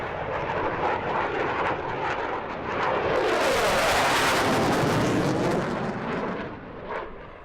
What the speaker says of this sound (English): A change of pace now as the Portuguese Air Force stages some flypasts.